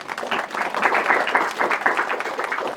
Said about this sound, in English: when we clap, people who sleep, they will get up